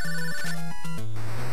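Low-energy warning chime in the NES game Goonies 2, a loud chiptune beeping pattern repeating in short bursts like a ringing phone, alongside other game tones.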